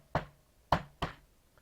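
Three sharp knocks on a door sound close by in an irregular pattern, two in quick succession and then a third, with quiet in between.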